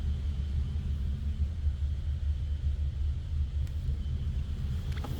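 A 1953 Ford Customline sedan's engine idles with a low, steady rumble at a moderate distance, with no voices and only a faint tick near the end.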